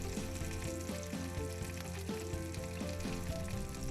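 Onions and garlic fry in a skillet with sausages, giving a steady, dense sizzle with faint stirring scrapes, heard alone without any talking.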